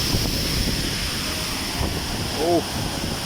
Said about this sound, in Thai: รู้สึกว่าลมแรงมากคุณ